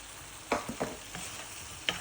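Fried fish added to sambal sizzles quietly in a pan while a spoon stirs it, giving a soft frying hiss broken by a few sharp scraping clicks, close up and without voices.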